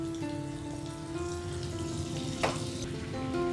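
Butter and olive oil sizzle in a wok (kadhai), a steady close frying hiss with faint crackles throughout and no talk.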